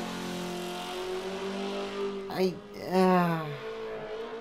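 A Mazda on a race track revs and sweeps past, the engine note climbing and dropping through two sharp surges while someone talks over it.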